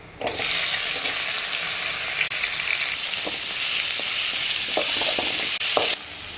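Three medium tomatoes hit sautéed onions in hot oil for a dried-fish curry, setting off a loud continuous sizzle with scattered stirring scrapes and clicks near the end.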